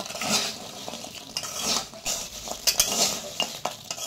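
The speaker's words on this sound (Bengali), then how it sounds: "অফ করে এভাবে কিন্তু সমানে নাড়তে হবে যতক্ষণ না পর্যন্ত চিনিটা এমন শুকনো হয়ে আসছে।" A spoon stirs fried nimki through sugar in a pan with the gas turned off, giving irregular scraping and clinking against the metal with no talk.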